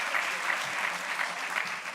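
A crowded room of listeners at a global development event breaks into applause, a dense, even roar of clapping lasting about two seconds.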